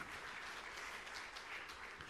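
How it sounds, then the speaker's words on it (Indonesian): A church congregation applauds during a sermon, a steady, dense wash of many hands clapping at once that fills the hall evenly throughout. "Tepuk tangan yang meriah untuk kemuliaan."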